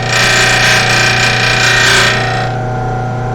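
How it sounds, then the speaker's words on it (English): Wood being sanded with a power tool, a loud continuous abrasive whir with a steady motor hum underneath, the grinding texture easing slightly toward the end while the motor keeps running. "probably you don't want to sand on this side, you want to sand on the other side"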